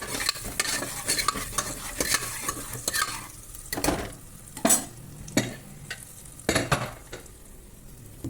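Lentils being stirred in a pan for mango dal at home, a run of scraping, stirring strokes with soft sizzling between them, close and moderately loud, no talk.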